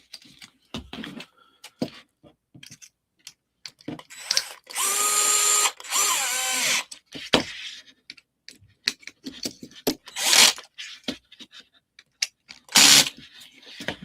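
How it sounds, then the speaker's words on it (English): A power drill drives screws into a Tamiya F150 Ranger XLT model kit in several short whirring bursts, separated by quiet stretches of light clicks and handling noises. "And this gets all screwed together."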